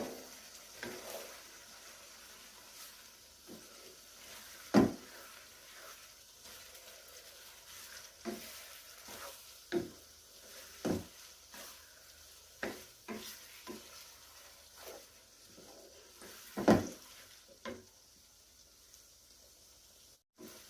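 Onion and minced meat fry in a pan for a quick biryani, giving a low, steady sizzle broken by repeated spoon scrapes and knocks, two of them noticeably louder.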